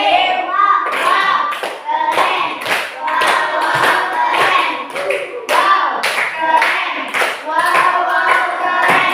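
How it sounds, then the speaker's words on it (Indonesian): A classroom of children claps together in a quick, rhythmic pattern, loud and close, with bursts of claps separated by short pauses and some voices mixed in. "Kasih aplaus, kasih W, kasih O, kasih W."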